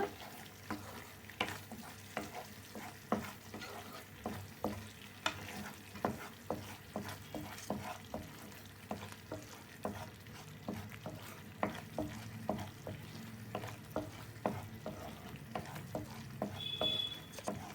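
Masala ground from roasted fenugreek and cumin fries in oil for dried-fish (karuvadu) chutney, stirred steadily, with repeated scrapes of the spoon against the pan over a soft continuous sizzle, close up and without talk.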